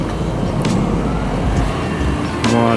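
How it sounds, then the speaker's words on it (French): A Renault Clio races along a winding mountain road in the Cévennes in winter, its engine a steady nearby drone under continuous wind rush, with a few brief higher whines. "Oula, et là il y en a un avec sa Clio là, ils font la course."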